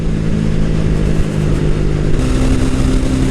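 A TVS Ronin 225 motorcycle accelerates on a mountain road toward Mustang in Nepal, its engine a loud, steady, close roar mixed with heavy wind rush, the pitch stepping up slightly partway through.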